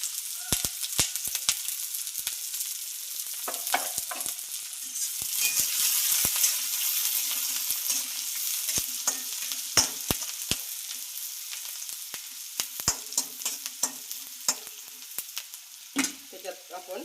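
Onion and green chillies sizzle and crackle in a hot pan while cooking for brinjal bharta, with sharp spatula scrapes and stirring clicks over a steady frying hiss. No one speaks.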